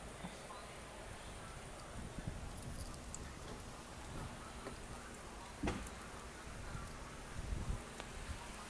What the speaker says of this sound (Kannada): ಆದರೆ ಮಳೆ ಮಾತ್ರ ಮಸ್ತಾಗಿ ಆಗ್ತಿದೆ.